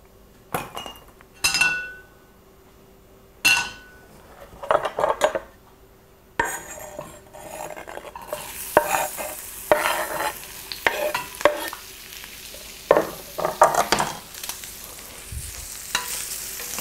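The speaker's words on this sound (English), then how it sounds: "Now I'm just gonna caramelize these onions." Onions caramelizing in olive oil in a pan, with a soft sizzle beneath repeated scraping and clinking of a utensil stirring against the pan, close and intermittent, growing busier toward the end.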